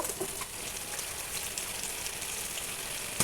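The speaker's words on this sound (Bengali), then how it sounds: "আমার মুখিটা কষানো হচ্ছে প্রায় পাঁচ মিনিট হয়ে গিয়েছে" Taro corms (kochur mukhi) sautéing with fish in a pan, a steady close hiss and crackle of frying oil running evenly throughout with no voices.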